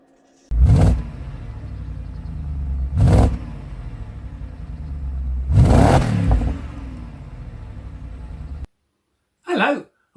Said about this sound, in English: I get a great sound out of my 6 Series exhaust with a simple modification